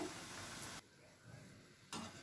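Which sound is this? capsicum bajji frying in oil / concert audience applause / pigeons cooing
capsicum bajji frying in oil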